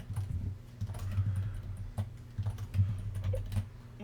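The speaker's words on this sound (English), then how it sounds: "they are not liking all this keyboard slamming" Computer keyboard typing, quick irregular bursts of key clicks and heavier keystrokes, close and fairly quiet, with no talking.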